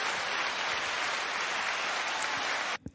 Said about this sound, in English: Maybe a clap. Where's the clap?